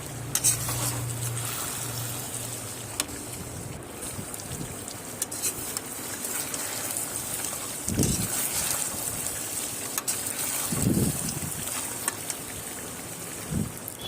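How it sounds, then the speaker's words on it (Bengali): Fried meat and elephant foot yam stirred in hot oil, a steady loud sizzle with occasional scraping thumps of the spatula against the pan, close up. "ভেজে রাখা মাংস আর ওলটাকে দিয়ে দিতে হবে দিয়ে আবারও ভালো করে নেড়ে চেড়ে কষিয়ে নিতে হবে"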